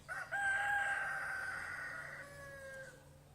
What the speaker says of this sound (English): Rooster thinks it looks done.